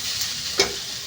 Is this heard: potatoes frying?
yes